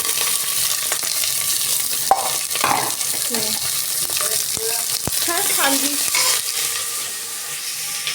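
Onions and vegetables fry in a hot pan, a steady close sizzle with intermittent stirring and scraping strokes and occasional utensil taps.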